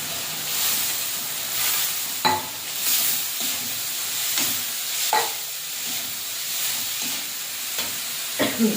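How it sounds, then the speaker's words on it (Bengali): Soaked lentils are stirred into a fried spice paste in a pan, giving a close, steady sizzle with scraping stir strokes and occasional sharper clinks of the spoon against the pan. "মশলাটা কষে নিয়েছি, এবারে ডালগুলো দিয়ে দেবো।"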